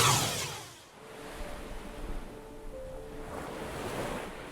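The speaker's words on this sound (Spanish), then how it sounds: "El océano, esa gran masa de agua deslumbrante de color azul que cubre más de 2/3 de la superficie terrestre" Ocean surf rolls in as a steady wash of breaking waves, with gusts of wind buffeting the microphone throughout.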